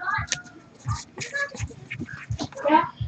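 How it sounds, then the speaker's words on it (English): A dog barks and yelps outside in repeated frantic bursts, heard from a distance under a person's voice. "You hear your dog out there freaking out?"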